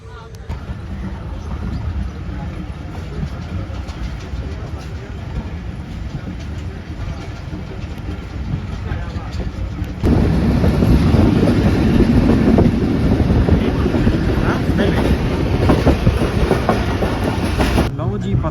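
Passenger train leaving Okara station, heard from on board as a continuous rumble with rhythmic clickety-clack of wheels on track. Wind and motion noise swell noticeably louder partway through as it picks up speed.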